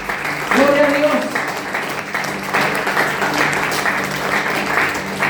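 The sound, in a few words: church congregation applauding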